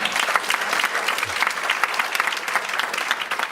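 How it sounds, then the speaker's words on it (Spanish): A church congregation breaks into loud, sustained applause, a steady crowded clatter of many hands filling the room without any speech over it. "Vamos a dar un fuerte aplauso, papá"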